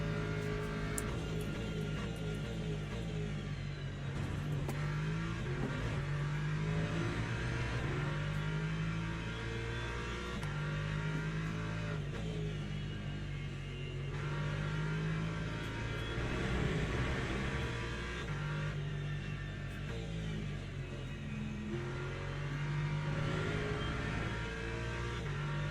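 Hypercar engine droning steadily at Monza in the racing game Le Mans Ultimate, a continuous revving hum with shifting pitch that runs the whole stretch without speech.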